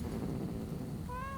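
A cat meows once in the video game Rise of Ronin, a short clear call rising out of a steady dull background near the end.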